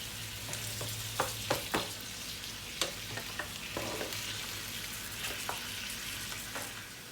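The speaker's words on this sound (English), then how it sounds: "And stir it around to give it a good mix." Meat frying with gochujang in a pan, a steady low sizzle broken by scattered sharp scrapes and taps of a utensil as it is stirred, close up with no voices.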